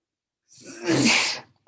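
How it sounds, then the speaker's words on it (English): A single loud sneeze close up, with a short breathy intake before the burst, then silence. "Ooh, I gotta sneeze."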